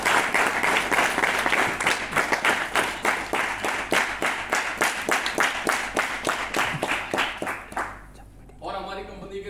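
An audience gives loud applause for a company figure at a business success event, a dense rhythmic clapping sustained for about eight seconds before stopping abruptly, followed by a voice.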